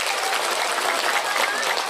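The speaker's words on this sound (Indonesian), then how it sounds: "tepuk tangan untuk Indonesia" Congregation at a humorous Sundanese religious sermon claps together in sustained, even applause, a continuous wash of hands with faint crowd voices underneath.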